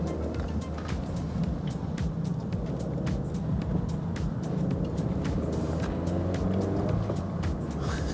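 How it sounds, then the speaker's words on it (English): A Mazda MX-5 NC1 rolling slowly around a small roundabout, a steady low engine hum with gentle pitch shifts and tyre and road noise, heard from inside the car. "It's just driving around at slow speeds around a small roundabout like that, within the speed limit, and it's still fun."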